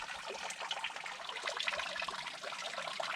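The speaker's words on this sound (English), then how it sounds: "All that melting water from uphill is seeping off the rocks." Meltwater from uphill trickling and seeping off rocks on a cold hiking trail in the Belgian Ardennes, a steady, close, bright babble of running water without pause.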